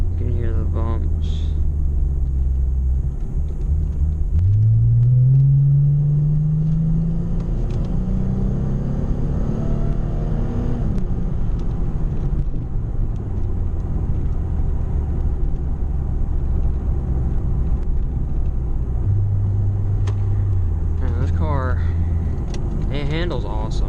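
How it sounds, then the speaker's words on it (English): A 2009 Lexus IS350 rolls over a bumpy road, heard from inside as a steady low rumble with occasional dull thumps and jolts. Voices come through at times. "You can hear the bumps."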